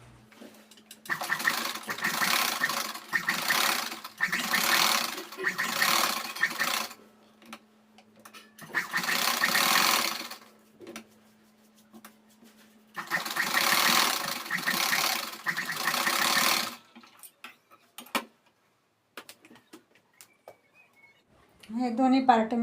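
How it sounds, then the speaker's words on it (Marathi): A sewing machine stitches blouse fabric onto its lining in several long whirring runs separated by short pauses, with a steady motor hum, followed by quieter handling noises and brief speech at the end. "आपण याला पूर्ण शिलाई टाकून घेऊ चारही"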